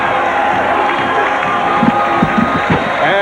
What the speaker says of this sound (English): Czyz hearing it from the crowd as he makes his way toward the ring